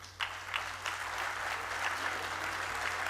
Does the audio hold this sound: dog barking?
no